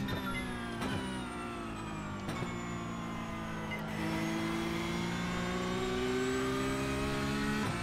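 Porsche Cup race car in the iRacing sim at the Nurburgring, its engine droning steadily with rising and falling revs and gear changes, loud and continuous throughout with no talk.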